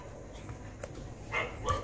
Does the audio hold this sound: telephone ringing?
no